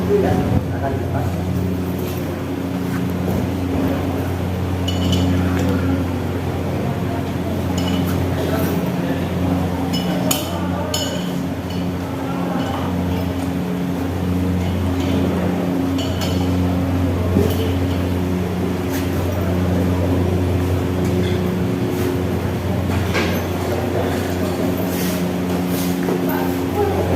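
Metal tools clink and tap in scattered, irregular bursts during removal of a motorcycle's rear wheel in a workshop demonstration, set against a steady low mechanical hum with occasional voices.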